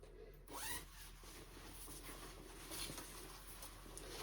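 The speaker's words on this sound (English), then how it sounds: "it is nice that there's also this zipper in the front" A quick zip on the front of a VisionBody EMS suit, a short rasping pull near the start, followed by soft fabric handling and faint rustle.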